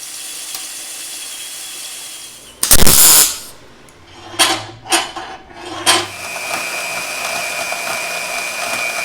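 A drill bores a 3/8 inch hole into metal in a loud burst, then a few shorter spurts of drilling follow, with a faint steady hum between them.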